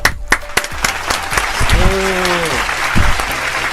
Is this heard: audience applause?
yes